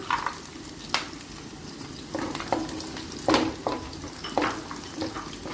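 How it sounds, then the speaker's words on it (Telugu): Cashews, onion and green chillies sizzle in hot oil in a pan, with a steady frying hiss broken by repeated scraping and clinking as a spoon stirs them. "జీడిపప్పు, ఉల్లిపాయ, పచ్చిమిరపకాయ, ఉల్లిపాయ అన్నీ వేగినాయండి"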